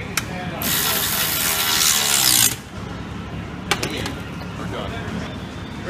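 A ratchet tightens bolts while a FICM is being installed. A dense burst of rapid clicking lasts about two seconds, followed by a few isolated clicks in a quieter workshop.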